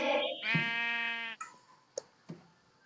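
A single sheep bleats once, a drawn-out wavering cry nearby, followed by a few faint clicks.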